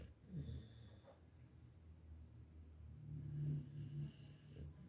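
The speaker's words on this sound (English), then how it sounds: "He's already snoring." A beagle snores softly nearby, slow rasping breaths that rise and fall in a low, muffled rhythm, with no talking over it.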